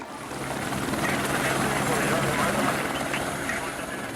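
Several helicopters drone steadily overhead searching for victims after the Armero tragedy, their rotor chop and engine roar holding at a loud, even level throughout.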